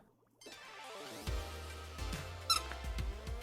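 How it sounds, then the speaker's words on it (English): A short squeak effect from the video game Splatoon 3 rings out amid the game's music and sound effects, fairly quiet and brief. "Squeak."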